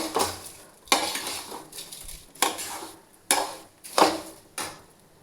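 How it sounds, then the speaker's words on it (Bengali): Rice and cashews with a spoonful of salt are stirred in a pan, a spoon scraping and clattering against the metal in regular strokes about once a second over a faint sizzle. "দেখুন চালটাকে বেশ সুন্দরভাবে ভাজবো"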